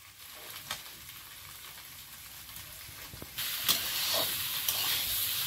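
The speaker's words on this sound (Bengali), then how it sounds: "এই আলুটা ভেজে নিতে হবে।" Potatoes frying with turmeric and salt in a home kitchen, a low steady sizzle and hiss that grows louder about midway, with occasional stirring clicks and no talking.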